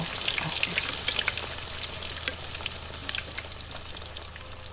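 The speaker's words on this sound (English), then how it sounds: "Listen to that bacon sizzle." Bacon sizzles and crackles steadily in a hot pan, a dense hiss dotted with small pops, close and continuous throughout.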